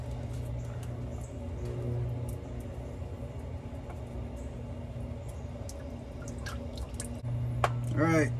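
Used engine oil from a 2016 RAM 1500 with the 5.7L Hemi pours and drips from the removed oil filter, a soft trickle and scattered drips over a low steady hum of garage background.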